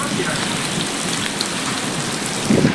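Heavy rain in an Islamabad storm pours steadily in a dense, continuous hiss, with a slightly louder burst of splashing near the end.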